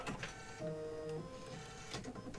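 An embroidery machine stitches a Hello Fall wall hanging, giving a steady mechanical whir with tonal motor whines and rapid needle clatter throughout, fairly close and without talk.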